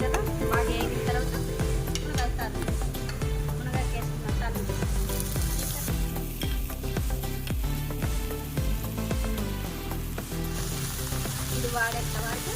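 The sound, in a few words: onion frying with salt and turmeric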